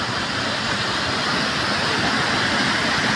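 The Talleru waterfall near Dalhousie, Himachal Pradesh, gives a steady broadband rush of falling water, full and continuous throughout without any talk.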